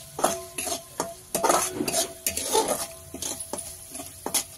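Masala with black and red chilli powder, turmeric and salt is sautéed for a banana flower stir-fry: a spatula scrapes and clinks against the pan over and over above a soft, constant sizzle.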